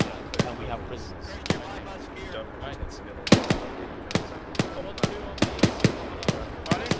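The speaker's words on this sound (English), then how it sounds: "Incoming fire, watch it." Incoming gunfire in the military shooter Arma 3, sharp single shots cracking at irregular intervals, some loud and close, others fainter, over a low ambient background with faint voices.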